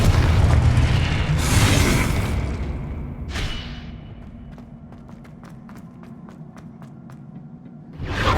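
A Confringo fire spell explodes in the video game Hogwarts Legacy: a heavy booming blast with rumbling low end, then a second burst, followed by a run of sharp crackling pops and a final loud hit, with no talk.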